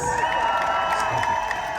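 A street-performance crowd in New Orleans cheers and whoops steadily, with scattered shouts and a continuous wash of voices and applause.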